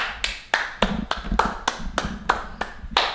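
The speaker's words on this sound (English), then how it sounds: "A round of applause for big mistakes and for plans moving forward." A small round of applause at home, with about ten sharp, evenly spaced claps in quick succession, close and fairly loud.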